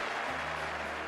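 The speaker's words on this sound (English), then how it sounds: "They clapped, they applauded, they stood up." Old Trafford crowd clapping and applauding Alex Stewart's century in his 100th Test match against the West Indies, a steady, dense wash of applause filling the short moment with no pause.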